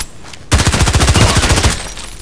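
Rapid automatic fire from an SR3M compact assault rifle in the shooter game Contract Wars, a loud sustained burst of closely spaced shots lasting over a second after a short quiet lead-in, then tapering off.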